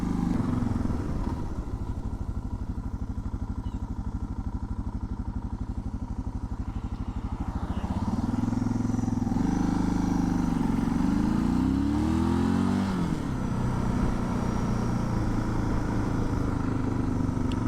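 A Suzuki DR650 single-cylinder motorcycle with knobby tires runs with its choke off. A steady thumping idle is heard close up, then the engine revs and climbs in pitch before settling back, with no talk.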